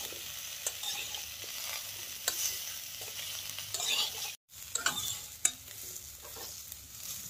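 Moringa drumstick pieces for a pickle sizzle in a pan while being stirred, with frequent scraping knocks over constant frying and a brief silent break midway.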